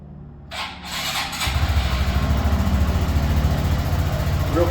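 A Suzuki DRZ470sm motorcycle with stock exhaust cranks and fires up, then settles into a steady, throbbing idle close by, its low pulsing beat running evenly to the end.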